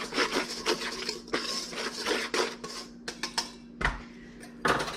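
Garlic sourdough cracker dough with salt being mixed in a bowl, giving repeated close scraping and rubbing strokes with dull knocks against the bowl, uneven in rhythm and with no talk.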